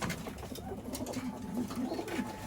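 Tumbler pigeons coo repeatedly near their nest and eggs, making soft, rolling, low calls that rise and fall close by over a faint background.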